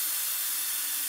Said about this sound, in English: so we get in there and we stir the mixture